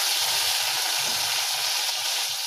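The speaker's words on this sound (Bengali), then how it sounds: "এবার আমি আলুগুলো ভেজে তুলে রাখবো" Potatoes fry in hot oil in a pan, producing a loud, even hiss with dense spitting crackle and low bubbling pops all the way through.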